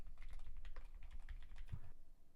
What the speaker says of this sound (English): he's typing up his own super chat